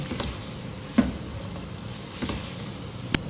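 Sliced onions spread out in a hot pan and fry to a golden colour, giving a steady crackling sizzle broken by a few sharp utensil taps.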